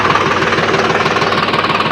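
A tractor running a rotavator on a farm gives a loud, close, steady engine chug with a rapid knocking throb throughout.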